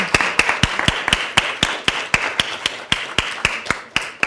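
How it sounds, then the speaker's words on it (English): Sharp, evenly spaced hand claps, loud and close, ring out steadily for several seconds from an audience at an academic conference keynote, with no talk over them. "So round of applause for everybody, please"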